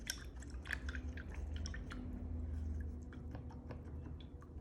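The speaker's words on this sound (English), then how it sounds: "I'm rinsing all the blue" A paint brush swishes and taps in a water cup, rinsing out blue paint, giving soft close-up sloshing and dripping sounds without talk.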